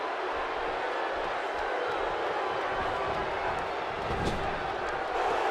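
Arena crowd in the WWE 2K18 wrestling video game, a loud, continuous roar of cheering that swells slightly near the end, with no voices over it.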